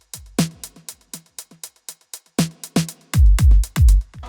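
A halftime triplet drum beat from the bridge of a song plays alone: sparse sharp hits at first, then heavier booming kicks near the end.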